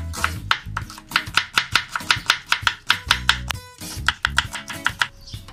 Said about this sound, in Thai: หั่นหอมกระเทียมรอเลยค่ะ